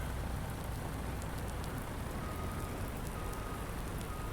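Steady rain pours in Farming Simulator 19, a dense continuous hiss of drops on surfaces at constant loudness with no talking.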